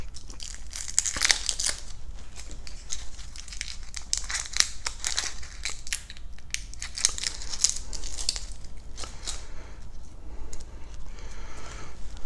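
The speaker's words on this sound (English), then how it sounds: "Peel the shallot." A shallot is peeled by hand, its papery skin producing a continuous dry crinkling and crackling, close up, over a low steady background hum.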